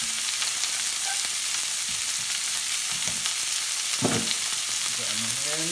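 Lobster sears in a hot pan with a loud, continuous sizzling hiss, broken by a short metallic clank and a ringing scrape of the pan.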